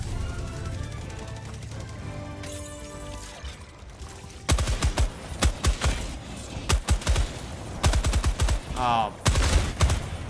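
A Gatling gun firing in the video game Helldivers 2, loud rapid bursts that start midway and repeat in sharp clusters over a busy in-game backdrop.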